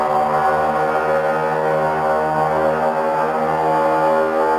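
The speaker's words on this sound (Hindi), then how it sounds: "सबसे पहले वॉर शुरू होने से पहले जो हॉर्न बजाई जाती है उसकी आवाज कुछ ऐसी होती है।" A loud, sustained war warning horn sounding before battle, a steady droning blast with rich layered harmonics that holds unbroken and alone for several seconds.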